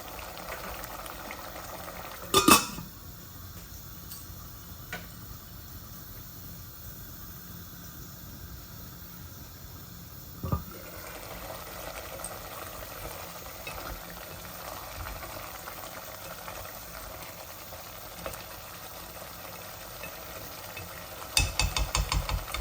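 Tilapia and radish cooking down in a pan, a steady low bubbling and sizzle running throughout with a few sharp clatters of stirring at the start, middle and end.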